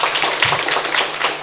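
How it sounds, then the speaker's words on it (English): Conference audience applauding after a speaker, a moderate patter of many hands clapping at a steady, even density, fairly close and without voices over it. "Please give a round of applause for Dr."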